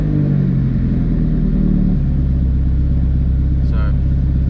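A Honda K20/K24 engine fitted with individual throttle bodies starts cold and settles into a steady, elevated idle, loud and close, with someone talking over it.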